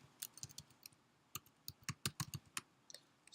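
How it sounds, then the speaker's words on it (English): Computer keyboard typing during a Python data analysis lesson: a quick run of distinct key clicks in irregular bursts, close and fairly quiet, with no talking. "So type your username"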